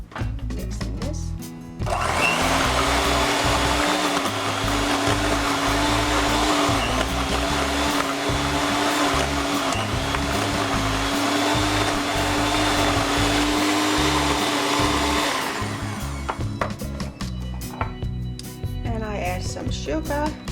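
An electric mixer beats butter and sugar for a Danish Mazarin cake, whirring loudly and steadily for about thirteen seconds, with quieter handling noises before and after.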